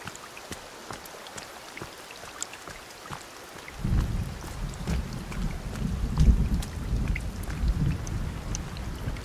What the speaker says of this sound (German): Es donnert ganz schön.